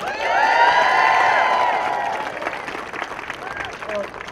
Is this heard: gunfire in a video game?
no